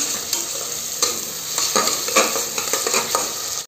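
Onions frying in oil for a village-style chicken rassa, sizzling loudly and close with repeated scraping stirs of a spoon against the pan, no voices.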